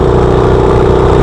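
Engine held at full throttle, a loud steady sustained drone with a strong continuous hum and no change in pitch.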